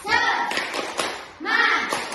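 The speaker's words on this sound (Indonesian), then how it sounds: "Tepuk semangat." A classroom of children does a rhythmic spirit clap, two bursts of quick patterned clapping mixed with children's chanting voices, near and lively with a brief pause between them.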